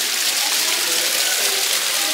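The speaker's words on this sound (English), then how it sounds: "There's a waterfall." An indoor waterfall at the Butterfly Palace pours in a steady, broad hiss and rush of falling water, loud and even throughout.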